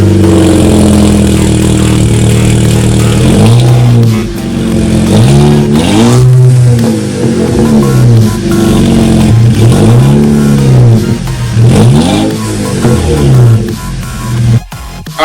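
A VW Mark 6 GTI with a new downpipe starts cold and revs: a loud, close engine roar climbing and falling in five or six repeated throttle blips, then settling toward idle.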